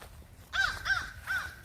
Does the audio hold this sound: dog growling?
no